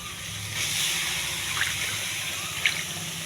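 Water runs and trickles steadily as mushrooms for a curry are soaked in salt water, with a couple of brief splashes standing out near the end.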